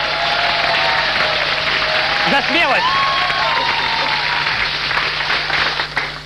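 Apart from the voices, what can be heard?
TV studio audience applause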